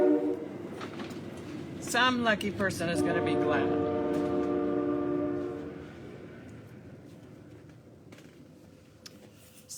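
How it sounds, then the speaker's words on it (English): An Amtrak train passes with a long, loud horn blast early on, followed by the rumble of cars rolling by that fades toward the end, with a person talking over it. "There's another train."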